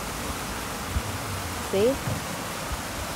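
Mountain stream water rushes steadily through St Omer Park in Queenstown, a constant hissing wash, with a brief spoken word partway through.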